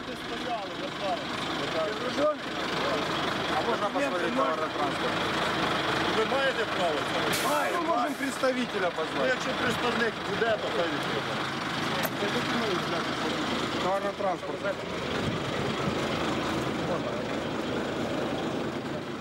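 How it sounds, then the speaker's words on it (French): Supply trucks sit idling, blocked at the Ukraine-Crimea border, their steady low engine rumble running continuously under a voice talking throughout. "Plus aucun camion de ravitaillement ne peut passer."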